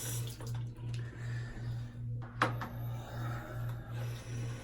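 Tap water runs into a sink while shaving gear is rinsed, a soft, continuous wash beneath a rhythmic low pulsing hum, with one brief clack midway and no talking.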